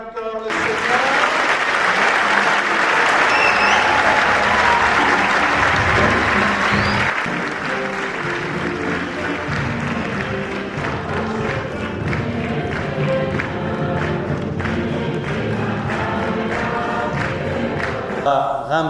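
Congregation at an opening Mass applauding, loud sustained clapping that fills the room, then continuing beneath a rhythmic background of music and voices.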